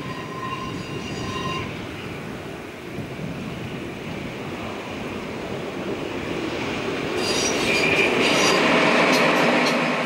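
A train rumbles closer into Neusiedl am See station in Austria, wheels clattering and squealing on the rails, growing louder toward the end as it rolls in.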